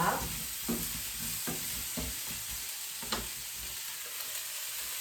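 Brussels sprouts sizzle steadily in a hot pan, with occasional clicks and scrapes as they are stirred or moved; no voices.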